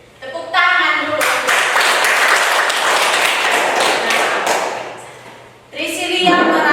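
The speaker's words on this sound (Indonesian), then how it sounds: "Oke, tepuk tangan dulu." Classroom applause from a group of students, a dense burst of clapping lasting several seconds that fades out, framed by a teacher's speech just before and after.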